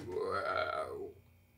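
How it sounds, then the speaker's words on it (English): A low, rumbling stomach growl sound effect from an Avatar: The Last Airbender quiz, a single gurgling groan lasting about a second and fading out. "Upon arriving at the docks, your stomach growls."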